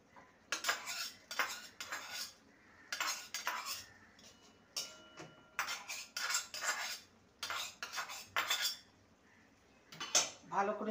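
Mung dal being mixed in a pot, with a spoon scraping and clanking against the metal in repeated bursts and short pauses between strokes.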